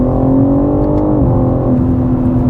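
A BMW G80 M3 Competition RWD engine holds a steady, loud, close drone under paddle-shifted driving, its pitch stepping down sharply once midway as a gear changes, then settling into a continuous hum.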